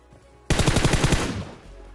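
Automatic weapon fire in the mobile battle royale game PUBG Mobile: a sudden loud burst of about eight rapid shots that cuts off abruptly, with no voices.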